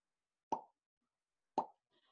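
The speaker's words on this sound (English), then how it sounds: "So some of these mud pots sound like this." A bubbling mud pot in Yellowstone National Park gives two distinct wet plops about a second apart, followed by faint softer gurgling, quiet and alone.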